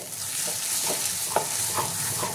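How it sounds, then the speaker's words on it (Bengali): Eggplant bharta with fresh coriander leaves is stirred in a hot pan: a steady sizzle runs throughout, with several soft scraping stirs landing at a loose, unhurried rhythm, close and clear, with no talking. "ধনে পাতাটা দিয়ে একটু নেড়ে,"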